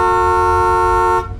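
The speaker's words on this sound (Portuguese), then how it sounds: "Irritado com a minha buzina que não parava" A car horn blares in one long, loud, steady honk held for over a second before cutting off abruptly, close and alone.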